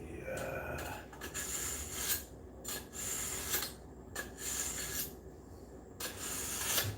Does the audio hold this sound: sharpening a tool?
yes